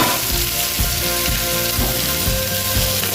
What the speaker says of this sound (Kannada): ಸೊ ಈಗ ಕ್ಯಾಪ್ಸಿಕಮ್ ಮತ್ತು ಈರುಳ್ಳಿ ಫ್ರೈ ಆಯಿತು